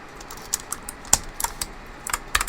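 Typing on a rebuilt mechanical MX-mini keyboard, a close, irregular patter of sharp key clicks in small bursts with brief pauses, no talk.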